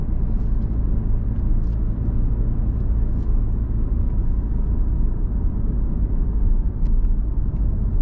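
A car accelerating in third gear during a driving lesson approaching a roundabout, a steady low engine and road rumble from inside the cabin, continuous and even throughout, no talk.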